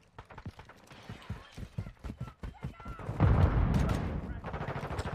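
Single-shot PSG-1 rifle fire in Modern Warfare II, sharp cracks spaced out in a loose rhythm, then a denser burst of shooting and impacts toward the end, with game noise around it.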